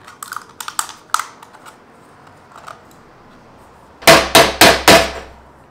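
Hammer strikes on metal seal a DIY alcohol penny stove: a scattered run of light taps, a pause, then four loud, close, evenly spaced blows.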